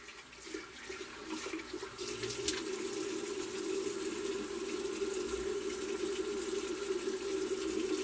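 Steady running water from a tap pours over a brush being rinsed under it, a continuous close hiss and splash lasting throughout with no talking.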